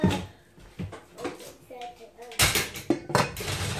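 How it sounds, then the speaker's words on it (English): A metal pot lid is grabbed and set down on a pot of simmering broccoli and cheese soup in a home kitchen, giving a few close clanks and rattles between stretches of talk. "let me grab the lid"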